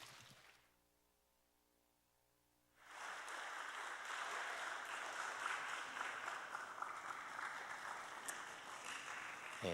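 Applause breaks out at a school admissions information session to welcome a speaker to the stage. After a near-silent pause it starts suddenly and keeps going as steady, dense clapping from a moderately distant crowd.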